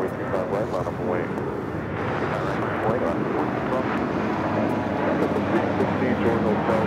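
An airliner takes off from runway 25 right at LAX, a broad steady roar with wind buffeting, while tower radio talk continues over it.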